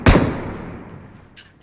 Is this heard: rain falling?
no